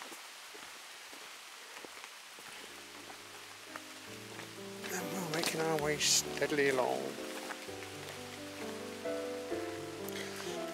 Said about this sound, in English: And you can hear the rain on the leaves.